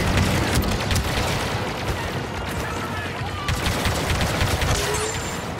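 Gunfire in the video game Star Wars Battlefront 2 forms a loud, dense fusillade of rapid blaster shots and booms that runs continuously throughout.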